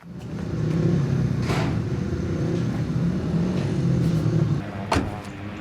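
Grass-track racing motorcycles at the Marmande track in France drone loud and continuous as they slide through the bends, with engine noise rising and falling and a few sharp cracks.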